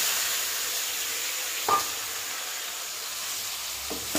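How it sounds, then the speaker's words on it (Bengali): Onion paste sizzles in hot oil with garam masala, a steady close frying hiss with one brief splutter partway through. "এবার পেঁয়াজ বাটাটা দিয়ে দেবো।"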